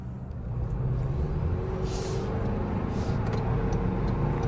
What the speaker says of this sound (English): Let's see how it does with acceleration.